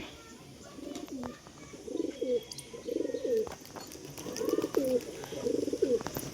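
Pet pigeons cooing close by in a series of soft, throaty rolling coos repeated about every second, with faint background noise and occasional voices.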